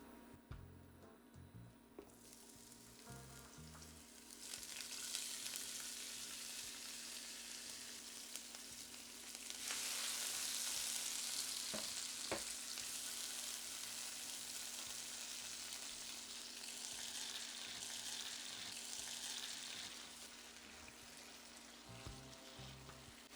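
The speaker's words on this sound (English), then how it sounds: "I'm gonna start frying up the green seasoning and vegetable. So I'm gonna add it into the pot." Continuous sizzling of green seasoning and vegetables frying in hot oil in a pot, growing louder and fuller after a few seconds and then settling into a steady crackle.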